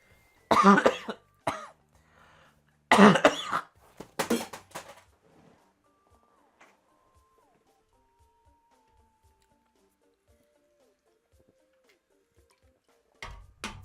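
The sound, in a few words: throat clearing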